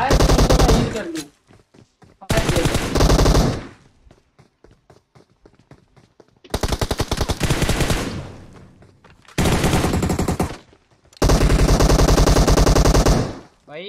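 Gunfire from the Free Fire video game comes in repeated loud bursts of rapid automatic shots with short gaps between them, with footsteps and a voice talking in the quieter stretches.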